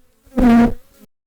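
A swarm of flies buzzing inside a home, used as an audio story effect: a single loud, droning burst of about half a second that swells and fades, with no talk.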